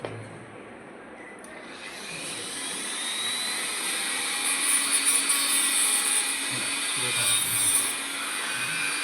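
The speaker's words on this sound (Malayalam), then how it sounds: "ഫയർഫോഴ്സ് എത്തി അതിസൂക്ഷ്മതയോടെ മുറിച്ചു നീക്കുകയായിരുന്നു." Fire force rescuers cut a gold ring stuck on an elderly care-home resident's finger with a small high-pitched cutting tool. It makes a continuous close whine with faint rasping that shifts slightly in pitch, and no talk over it.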